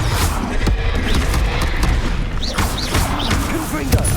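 Combat spells such as Bombarda, Incendio and Confringo explode in Hogwarts Legacy as a chaotic stream of booms, crashes and thwacks, loud and close, with shouted voices mixed in.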